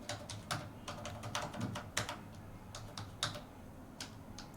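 A computer keyboard clatters close up as a college name is typed, with irregular crisp key taps in short runs and pauses and no voices.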